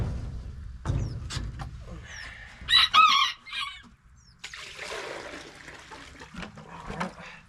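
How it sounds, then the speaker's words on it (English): On a Tennessee homestead, chickens cluck close by and a rooster lets out a loud crow in the middle, among scattered knocks and rustles, with no talking. "I'm gonna show y'all these chickens right here."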